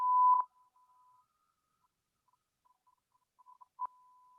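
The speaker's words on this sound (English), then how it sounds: "So here's one that says the 1 kilohertz sine wave tone." A pure 1 kilohertz sine wave tone plays as a steady, faint whistle-like pitch, with brief louder bursts at the start and near the end and no talk.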